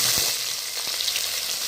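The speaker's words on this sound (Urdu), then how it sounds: "پیاز کو لائٹ براؤن ہونے تک ہم نے اس کے اندر تیل میں تلنا ہے۔" Onions fry in oil in a pan, a continuous close sizzle with faint stirring taps.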